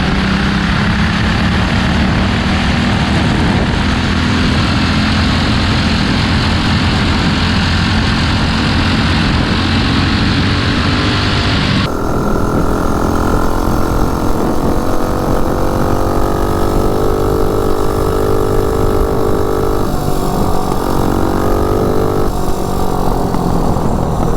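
Small minibike engine with a carburetor in need of rejetting, droning and idling steadily at close range with a slight shift in pitch partway through, no voices.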